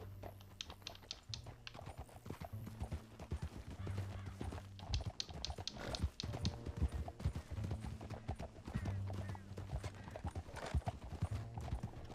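Horse hooves clip-clop steadily in a Red Dead Redemption 2 scene on Xbox Series S, with a brief whinny and a rider's low harmonic tones running under the continuous rhythmic steps.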